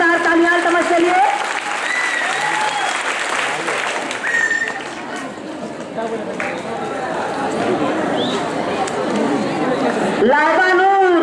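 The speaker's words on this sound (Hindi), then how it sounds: "जोरदार तालियां" Sustained audience applause at a prize distribution ceremony for a school general knowledge competition, loud and steady for the whole stretch, with a voice speaking over the clapping at moments.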